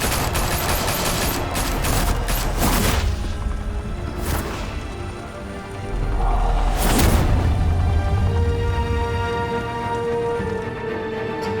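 Sustained gunfire rattles through a Batman Telltale Series video game scene, dense automatic bursts with sharp loud cracks near 3, 4.5 and 7 seconds and no pause in the shooting.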